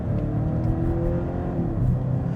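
A 2025 Volvo V90 B6 Cross Country's turbocharged engine pulls steadily under acceleration, a smooth, low, even hum with a slight rise in pitch, close and continuous with no voices.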